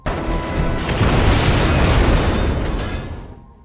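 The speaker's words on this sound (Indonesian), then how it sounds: "setelah ledakan tersebut" A loud explosion erupts in a deep, rumbling boom that swells for a few seconds and then fades into silence.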